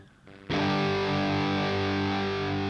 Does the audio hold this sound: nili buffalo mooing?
no